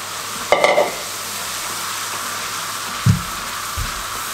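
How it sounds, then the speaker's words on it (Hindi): Chicken masala gravy for murgh musalam roasting in oil over a high flame gives a constant hissing sizzle, with one bright scrape of a spoon early on and a couple of dull knocks later, close up and without speech. "अच्छे तरीके से इसकी आंच को तेज़ रखें और इसकी भुनाई कर लें।"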